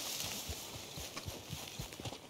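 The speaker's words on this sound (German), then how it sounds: "Pferd, komm mit." Horse hooves clip-clop at a steady walking rhythm in the video game Red Dead Redemption 2, fairly close and clear against a soft ambient background.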